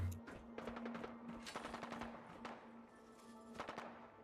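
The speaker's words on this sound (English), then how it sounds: "That's actual gunfire." Rapid bursts of gunfire in Fallout 4 crackle in quick succession over a steady electronic hum, with sharp shots repeating every second or so.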